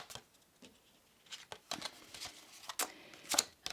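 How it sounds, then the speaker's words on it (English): Tarot cards being shuffled by hand, a series of soft, quick riffling and pattering bursts at an uneven rhythm, faint and close, with no talking. "My hands are too small to shuffle the other side, the other way."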